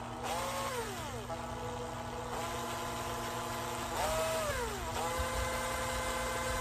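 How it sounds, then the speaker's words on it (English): A cordless drill spinning a car speedometer cable whirs steadily, its pitch swooping up and down several times as it spins, loud and close with no talking. "With a cordless drill."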